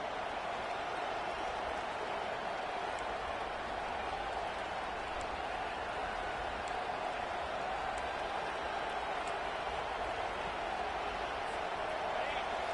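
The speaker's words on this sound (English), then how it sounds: "this crowd coming to life here, trying to help the defense get a stop with the offense pinned back" A stadium crowd at a college football game between JMU and FSU, a broad steady roar of cheering and noise held at an even level the whole time, with voices talking over it.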